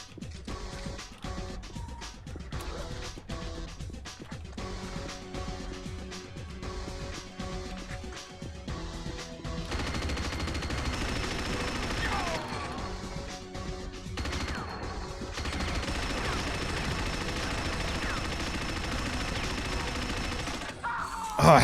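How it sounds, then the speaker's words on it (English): Rapid minigun fire in Unreal Tournament deathmatch on PC, dense bursts of gunfire coming in stretches amid other game effects, with a long sustained barrage in the second half. "I do know the minigun appears here"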